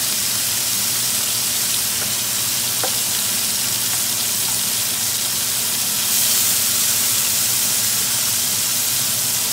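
Mushrooms sizzling in a hot pan while burgers are cooked, a loud, dense, continuous frying hiss that holds steady throughout with a couple of faint ticks.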